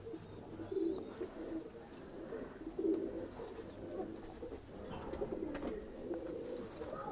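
Lalsare pigeons coo in a pen at a pigeon sale in Bhopal, giving low, rolling coos repeated every couple of seconds, close by over a soft background hum.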